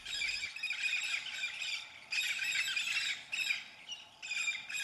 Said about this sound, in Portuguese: E a presença dos papagaios aqui nas matas de araucária da região é algo mágico